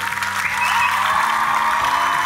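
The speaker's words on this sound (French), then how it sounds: "Applaudissements pour Hans" A studio audience applauds a TV contestant named Hans on a French-language show, loud dense clapping with a musical tone underneath.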